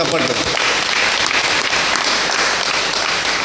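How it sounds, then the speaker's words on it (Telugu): A church congregation at a Sunday Mass celebration bursts into loud, dense applause that fills the room evenly and continuously from start to finish. "చప్పట్లు."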